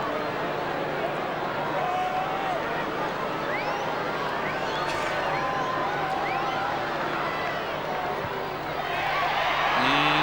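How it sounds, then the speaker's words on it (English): Football crowd at a 1998 AFL match between North Melbourne and West Coast groaning and jeering in disapproval, a broad, steady roar of many voices filling the stadium with whistles scattered through it. "Crowd doesn't like it either."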